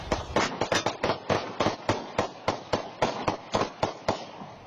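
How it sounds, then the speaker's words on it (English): Rapid volleys of sharp gunfire cracks along Seattle's Aurora Avenue, roughly twenty shots in quick irregular bursts, loud and close with echoing tails. "The gunfire can be relentless along this stretch of Seattle's Aurora Avenue."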